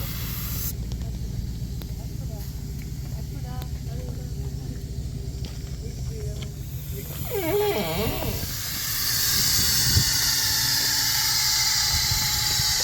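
Air hisses out of an off-road jeep's tires as they are deflated on a jeep tour. A low rumbling background gives way to a louder, steady broadband hiss in the final seconds.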